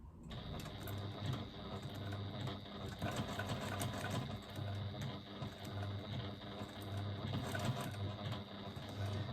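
A sewing machine stitches a narrow eighth-inch seam allowance through fabric, running steadily and continuously at close range with a fast, even mechanical whir and no voices.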